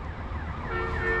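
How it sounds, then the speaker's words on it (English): An ambulance siren wails through city streets, its rising and falling tones growing louder over steady traffic rumble and wind noise from a cyclist riding through town. "And there's like a ambulance or something coming."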